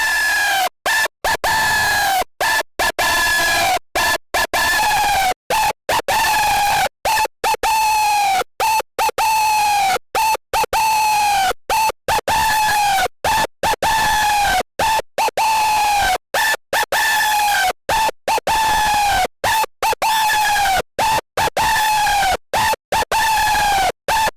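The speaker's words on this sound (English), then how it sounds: "search for that sweet spot where the screech really comes to life" A screeching synth lead made in Serum with the filter being moved plays as a long run of loud, piercing notes that repeatedly sweep up and down, broken by short gaps, alone and upfront for over twenty seconds.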